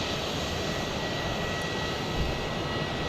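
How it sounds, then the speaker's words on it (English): A Delta jet airliner taxiing out at Tucson airport gives a steady, broadband engine roar with a constant hiss, heard from a moderate distance and without pauses. "the Delta 2442 is taxiing out"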